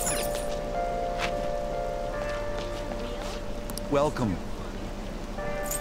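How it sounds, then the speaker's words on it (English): Rain in the Persona 5 video game, a steady soft patter running under game music tones and effects, with a brief spoken greeting partway through. "this rain is so annoying"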